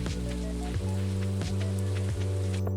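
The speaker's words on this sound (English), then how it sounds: "On day 6 it's raining." Rain falls in the farming video game Stardew Valley. A soft, steady patter runs under a looping game music track with repeating tonal notes and rhythmic pulses.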